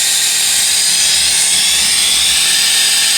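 An Atomstack Air Assist air compressor for a laser engraver runs at full output, giving a loud, steady, unbroken hiss and whirring drone throughout.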